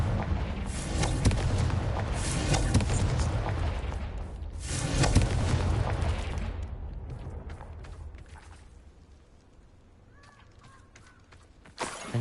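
A Confringo fire spell explodes in the video game Hogwarts Legacy, two big roaring blasts a few seconds apart that fade into rumbling debris and scattered clatter, ending in near quiet with a faint tonal chime.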